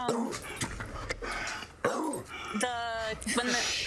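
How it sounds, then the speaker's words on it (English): A dog whimpers and yips in short, whiny bursts close to the microphone while people talk over it indoors. "my dog is joining in on the conversation right now."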